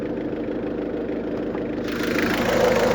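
A 1984 Mitsubishi turbo diesel car engine idles steadily with a constant low rumble, growing slightly louder toward the end.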